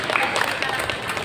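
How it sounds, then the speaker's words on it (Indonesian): Audience clapping for a regent's wife at a Mother's Day event in Trenggalek, a dense steady patter of many hands filling the hall, close and continuous without a break. "Tepuk tangan untuk beliau."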